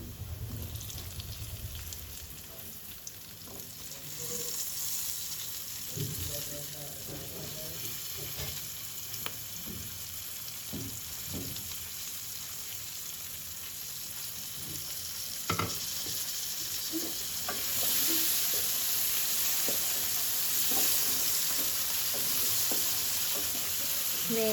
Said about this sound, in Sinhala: මේ විදිහට ඉස්සෝ ටික යාන්තමේ හැන්දෙන් එහා පැත්තට මේ පැත්තට පෙරලා ගන්න